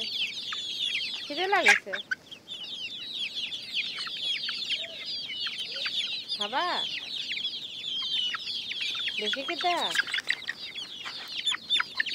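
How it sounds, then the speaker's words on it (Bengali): Chickens kept on a Bangladeshi rooftop cluck and squawk steadily throughout, with a few louder rising calls standing out, while a person talks briefly over them. "এখানে হচ্ছে আসলে ছাদে মুরগি পালে"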